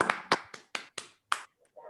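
Sparse, uneven claps from an online audience applauding through open microphones at the close of a university talk, a handful of separate sharp hand claps spread over about two seconds.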